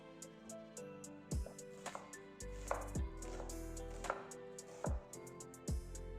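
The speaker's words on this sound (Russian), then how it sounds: "Сначала нарезаю лук." Onion cut with a knife on a board for a purple cabbage cream soup, a steady run of crisp, close chopping strikes with a few heavier thuds, alone with no talking.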